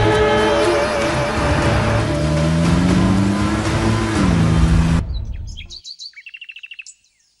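A car engine revs and pulls away fast under a steady background drone, cutting off abruptly before birds chirp briefly in the quiet afterward.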